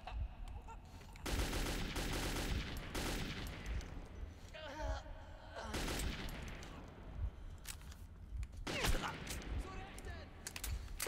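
Bursts of rapid automatic gunfire in Metro 2033, loud sustained volleys with short gaps, mixed with creature cries and game noise.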